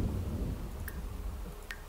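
A thunderstorm in the video game The Sims 4 fills the scene with a heavy low rumble and steady rain, loud and continuous, with a couple of brief sharp clicks on top and no voices.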